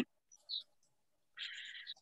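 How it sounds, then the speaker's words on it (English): Backyard birds sing outdoors in short, thin chirps and one longer warbling phrase, faint and somewhat distant between quiet gaps, with no speech. "I love all the sounds of your birds, Leann."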